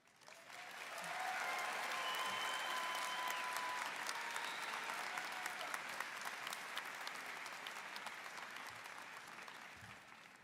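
A commencement audience at a college graduation ceremony claps for a graduate speaker, the applause swelling within a second or two, holding steady and thinning slightly toward the end, soft and somewhat distant overall.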